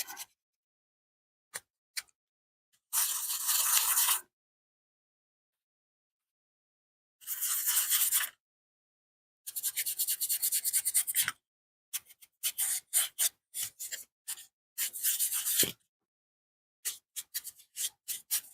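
A brush scrubs dry paint across foam carved and painted to look like stone, in close, scratchy bursts of rubbing separated by silent pauses, some long and steady, others short and choppy.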